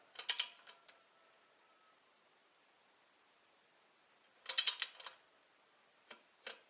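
Torque wrench ratcheting while tightening cylinder head nuts on a D-250 diesel engine during head gasket replacement, two short bursts of quick metallic clicks several seconds apart, then a couple of single ticks, close and fairly quiet.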